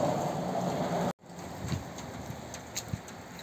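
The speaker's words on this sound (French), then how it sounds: "je viens de me prendre un orage en vélo en rentrant du boulot" Rain falling during a thunderstorm, caught while cycling home from work, a steady broadband wash of rain with scattered drop impacts, briefly cut out for a moment before resuming at a similar level.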